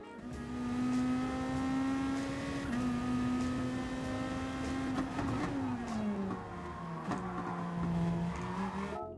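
Race car engine in Gran Turismo 7 holds a loud, steady tone, then drops pitch in quick downshift steps under braking into second gear, with faint tire noise; no talking.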